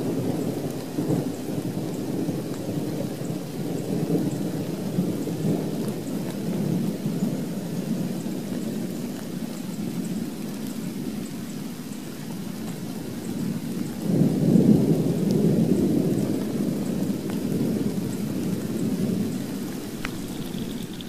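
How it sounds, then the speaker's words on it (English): Steady rain falling around an open pond recreation area with low, rolling thunder rumbling in the distance, swelling noticeably partway through, heard for about twenty seconds without any voices. "thunder, a little lightning, but seems to be off in the distance, but rain's still coming down"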